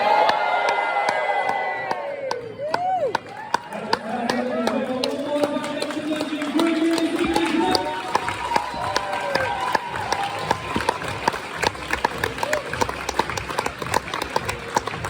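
Party guests at a dinner cheer and whoop together, a loud close crowd of overlapping shouts and whistles with scattered clapping that keeps going steadily, voices mixed in throughout.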